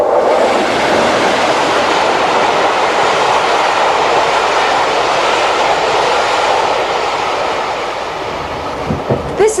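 The Royal Scotsman luxury train, travelling through the Scottish Highlands in 1989, rolls along the rails with a loud, steady rumble and faint clickety-clack. The noise continues unbroken throughout, with no talking.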